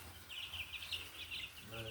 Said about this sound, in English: Look at them chickies.